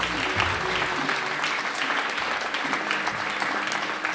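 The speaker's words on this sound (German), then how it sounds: "Einen Applaus bitte für die Wertungen." Audience applause at a poetry slam semifinal in Bayreuth, steady dense clapping from a crowd throughout, fairly loud with faint voices mixed in.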